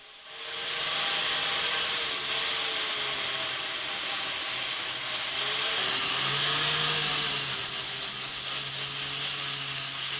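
An abrasive grinder strips powder coat from the cut ends of round steel tube for Jeep rock sliders, a continuous loud rasping hiss holding steady for about ten seconds with no talking.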